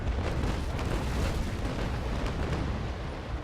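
Frigate cannon broadside in the naval sailing game Naval Action Legends, a dense sustained rumble of booming blasts rolling together for several seconds, loud and close with no clear gaps.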